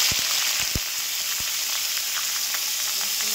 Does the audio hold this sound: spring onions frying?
yes